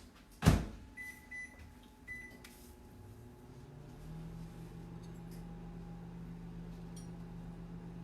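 A microwave oven runs to melt half a stick of butter, starting with a sharp click or door thud, then a steady low mechanical hum that builds and holds near and fairly quiet.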